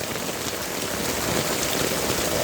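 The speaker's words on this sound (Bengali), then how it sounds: "অনেক জোরে জোরে বৃষ্টিও হচ্ছে।" Heavy rain pours down steadily outdoors, a dense, even hiss of falling water on surfaces with no pauses and no voices.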